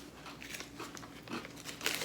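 Someone bites into and chews a crunchy Japanese roasted soybean cracker, giving a series of faint, close crackling crunches at an irregular pace.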